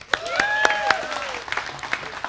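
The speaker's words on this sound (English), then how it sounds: "You can clap now." A church congregation breaks into applause, a dense patter of many hands with a few sharper claps standing out, while a voice is heard over the start of it.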